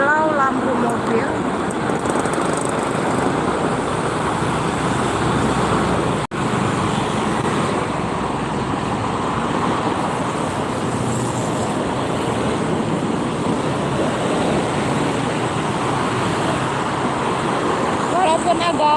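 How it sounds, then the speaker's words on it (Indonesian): Heavy night traffic on the Jakarta–Cikampek toll road, with a dense, continuous roar of cars and buses passing close by, steady and loud throughout while people talk over it. "Walaupun agak macet, cukup ya, cukup ramai."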